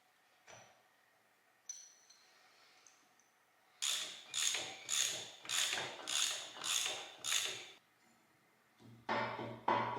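A ratchet tightens the pinion on a GM 12 bolt rear axle during a ring and pinion install. A few isolated clicks come first, then seven evenly spaced bursts of rapid clicking, a pause, and one more burst, all close and clear.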